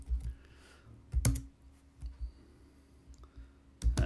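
Typing on a computer keyboard while coding in Python, a few sparse, close key clicks and taps separated by quiet pauses.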